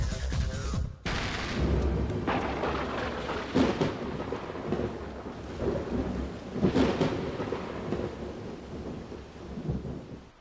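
Heavy rain and rolling thunder over the flooded plains of Brazil, a dense steady downpour broken by a sharp crack near the start and several deep booming rumbles that swell and fade, no voices.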